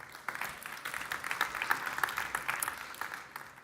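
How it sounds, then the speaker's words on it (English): Audience applause at a startup pitch event for software and service companies: a room of people clapping steadily at moderate volume, with a few louder individual claps standing out and faint voices in the mix. "Big applause."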